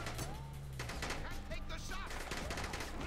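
Gunfire in the video game Robert Ludlum's The Bourne Conspiracy: rapid, sharp shots that come in bursts and run across the whole stretch, mixed with other game noise.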